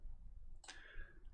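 A single crisp computer mouse click sounds close and faint against a low background hum, with nothing else around it.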